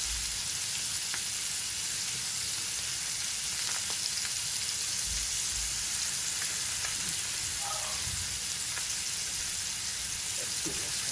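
Lamb chops and onions sizzling on a grill, a continuous soft crackling hiss with faint pops throughout, fairly quiet and steady.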